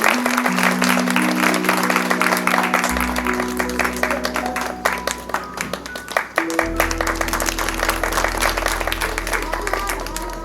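Dense audience clapping at a retirement farewell ceremony, continuing loudly throughout with sustained musical tones and a low hum underneath, with a few voices mixed in.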